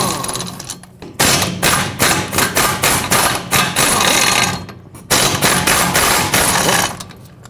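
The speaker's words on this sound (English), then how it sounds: "let's remove the four 12 millimeter bolts that hold this wheel bearing on." Removing the four 12 mm wheel bearing bolts from the back of the rear hub on a 2003-2008 Toyota Corolla, heard as loud, rapid bursts of rattling impact-wrench hammering separated by short pauses.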